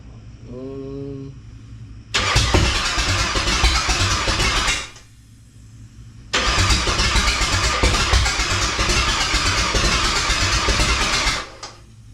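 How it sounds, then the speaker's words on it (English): A Ford 351 Windsor V8 in a Ranger cranks over in two long stretches, a steady churning whir from the starter that never catches, close and loud, with a short pause between. "where this engine is right now is it will turn over."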